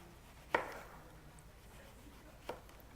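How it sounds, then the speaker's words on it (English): A kitchen knife slices through washed eggplant on a board, giving two soft, separate cuts about two seconds apart against a quiet room. "I wash my eggplant, then I slice it up into slices"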